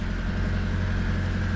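A 2011 Chevy Equinox with a 2.4 litre engine idles steadily up close, a continuous low rumble with an even, unchanging hum throughout.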